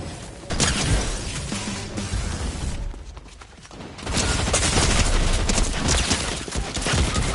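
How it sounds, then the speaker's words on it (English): SMG gunfire in a video game, dense crackling bursts of rapid shots with a brief lull in the middle before firing resumes louder, loud and close over a busy game soundscape. "I got a freaking SMG."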